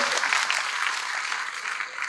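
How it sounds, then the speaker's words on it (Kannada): An audience bursts into steady, loud applause, a dense wash of clapping that holds evenly for about two seconds with no other sound on top. "ಹೊಡೆಯಲಿ ಚಪ್ಪಾಳೆ ಜೋರ"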